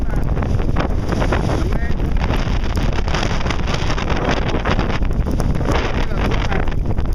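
Strong wind roars without a break over the microphone during a violent afternoon thunderstorm in the Collio area of Friuli, a loud, steady buffeting rush with brief speech barely audible beneath it.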